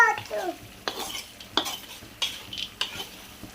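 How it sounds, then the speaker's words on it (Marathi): Onion poha roasting in a pan, stirred with a spoon in quick repeated scrapes and clinks against the metal over a soft sizzle, close and distinct. "आता ह्याला 5 ते 10 मिनिटं आपण असं भाजून घेऊयात।"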